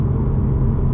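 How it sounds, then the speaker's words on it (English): A BMW M2 Competition engine blips and rumbles steadily up close, a dense low drone holding for about a second as it rev-matches on a downshift. "it's just revving or rev matching as I go back down the gearbox"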